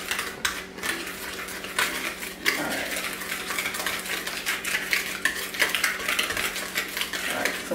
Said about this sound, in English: mix everything together really good